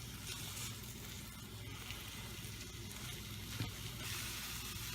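Scrambled eggs sizzling steadily in a pan as they are stirred and broken up, a continuous close frying hiss with soft scraping.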